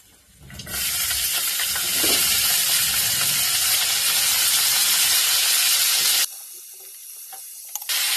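Onions and mustard seeds hit hot oil for a home-style tomato curry, bursting into a loud, steady sizzle that holds for several seconds before dropping to a quieter crackle.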